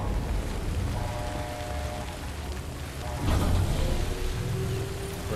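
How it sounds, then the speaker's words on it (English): Steady rain pours in the video game Death Stranding, a continuous close hiss that stays loud throughout and swells briefly just past the midpoint, with no voices over it. "Of course, it's fucking raining."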